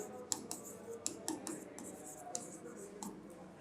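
Marker or chalk writing on a board during a chemistry lesson, faint irregular taps and short scratchy strokes sounding close, without speech.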